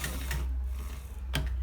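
A sewing machine stitches a shawl collar in steady continuous running, with a low mechanical hum and occasional sharper clicks, close and alone.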